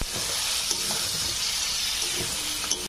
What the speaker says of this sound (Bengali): এখানে দেবো কচুরলতি সিদ্ধটা আমি